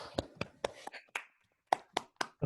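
Applause after a talk in an online meeting: sparse, separate claps from a few participants, short sharp bursts spread unevenly with a brief silent gap in the middle.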